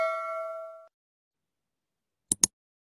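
A clean notification bell chime rings once and fades out, followed after a pause by two quick, sharp clicks close together.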